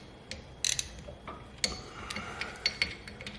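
Brake caliper piston on a 10th-generation Honda Civic being wound back with a tool, a quiet series of close metallic clicks and ratcheting ticks at an uneven pace, with no talk.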